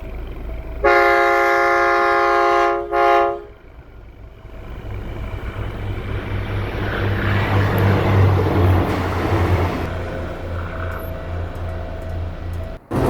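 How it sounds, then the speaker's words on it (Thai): A train horn blares for a few seconds, then a passing passenger train on Thailand's eastern line rumbles and clatters steadily on the rails, swelling and fading. "เรานั่งขบวนรถ 283 ไปยังสถานีจุกเสม็ดครับ"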